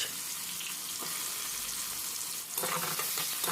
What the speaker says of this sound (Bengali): এবার তেলের মধ্যে দিয়ে দিলাম গোটা জিরে একটা শুকনো লঙ্কা আর কেটে রাখা পেঁয়াজ